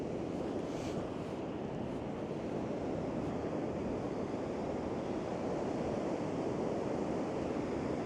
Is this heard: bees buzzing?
no